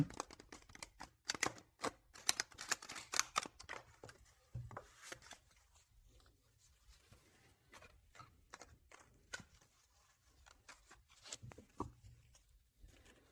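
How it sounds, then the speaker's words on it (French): Tarot cards shuffled by hand, a dense run of rapid clicking riffles close by at first, then looser scattered taps and slaps that grow quieter. "Je vais faire un petit peu de bruit pour bien mélanger les cartes"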